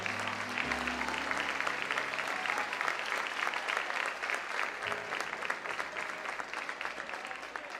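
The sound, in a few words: congregation applauding in church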